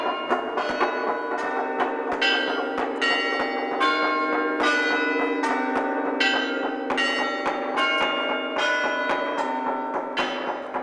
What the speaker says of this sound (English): The bells in the Crelio Tower are rung to invite churchgoers to attend the service.